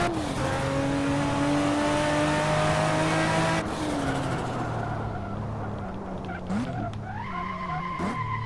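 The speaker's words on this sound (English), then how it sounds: "attempt to talk over this noisy vehicle" Car engine revving in the Hot Wheels: Universe Zero racing game, a loud whining motor with rising and falling pitch and some tire screech, steady at first and then shifting up through gears near the end.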